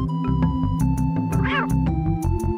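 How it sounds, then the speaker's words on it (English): A cartoon lion cub meows in The Lion King retro video game, one short rising-falling mew near the middle over looping game music with a steady beat. "Alright. I can meow."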